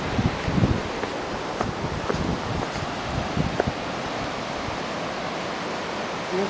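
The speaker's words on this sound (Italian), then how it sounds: "Tiro un po' di vento" Wind gusts rush across open ground in Patagonia as a steady broadband roar with irregular buffeting bursts against the microphone, moderately loud throughout with no voices.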